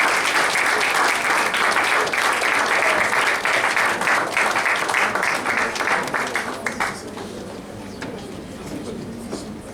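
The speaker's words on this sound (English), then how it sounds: "applause for the Honorable Minister of" Sustained applause from an audience at a university White Coat Ceremony in Dominica, honouring the Minister of Education; dense, steady clapping that thins and fades over the last few seconds.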